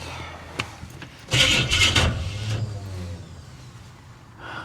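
A 1966 Chevy Impala engine cranks and catches, a loud burst of starting noise followed by a steady low idle rumble running on alone, with no talk over it.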